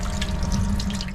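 Water runs from a tap in the washroom of a Pendolino train between Helsinki and Turku, a short, close, loud gush splashing into the sink.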